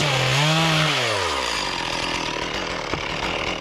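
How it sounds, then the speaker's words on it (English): A chainsaw cuts a couple of inches off the end of a poplar firewood log, its engine pitch swooping up then down before settling into a steady, loud, close-up buzzing grind. "Take my chainsaw and cut a couple inches off of one end."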